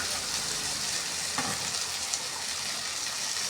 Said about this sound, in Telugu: బెండకాయ ముక్కలు వేసుకుంటా.